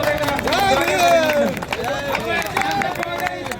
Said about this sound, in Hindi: एक बार जोरदार तालियों से सांसद महोदय का